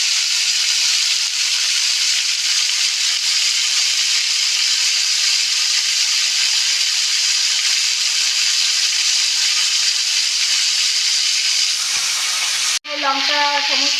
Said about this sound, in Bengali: এটা একটু ভাজতে হবে, তাই তো?